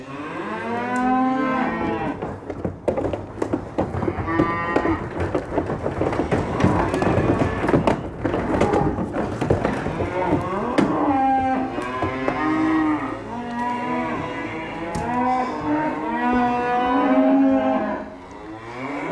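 Several cattle moo repeatedly and loudly, long drawn-out calls overlapping one another with thumps and faint voices in the background.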